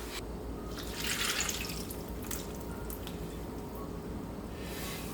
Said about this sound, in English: let's pour that infused oil, that oil with all of that garlic and scotch bonnet pepper in there